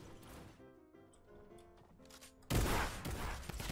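Loud, abrupt burst of gunfire from a sniper in the video game Fortnite erupts after a stretch of quieter game sounds, then a dense, noisy din carries on to the end.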